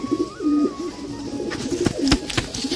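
Soft, low cooing of pigeons repeating in short phrases close by, with a few sharp clicks and rustles toward the end.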